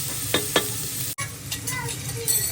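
Onions fry in oil in a pan for a boti curry gravy, making a near, steady sizzle with a couple of sharp stirring scrapes and a brief cut partway through.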